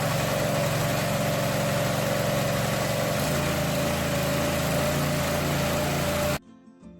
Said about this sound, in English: Once you've turned the choke off, you can turn the throttle all the way up.